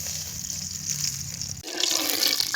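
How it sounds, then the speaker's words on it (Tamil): Sesame oil poured into a cooking pot for a fish curry, a steady liquid trickle and splash running close by, shifting to a brighter, busier pour partway through. "நல்லெண்ணெய் ஊற்றிக்கலாம்."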